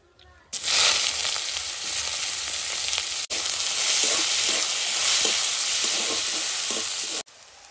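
Cardamom, cumin and chopped onion hit hot oil with a sudden loud sizzle that holds steady and bright, broken by a brief pause and a few stirring scrapes before cutting off.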